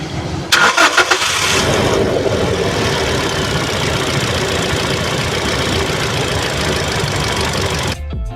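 A 2016 Toyota Innova Reborn G with a petrol engine and manual gearbox is started. The starter cranks for a moment, then the engine catches and settles into a loud, steady idle that runs on until an abrupt cut.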